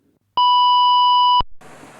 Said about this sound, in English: This is the general alarm.